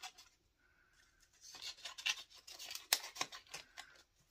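Close, quiet snipping and rasping of scissors cutting through paper in short irregular strokes, with soft handling sounds between.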